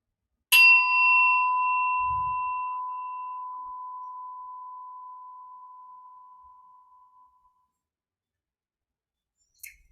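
A single meditation bell strike rings out clearly and decays slowly over several seconds into silence, with a faint tap near the end.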